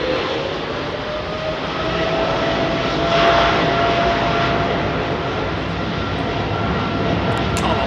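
Airliner jet engines roar at London Heathrow Airport on a windy day, a loud, steady broadband rumble that swells slightly midway and holds throughout, with no talking.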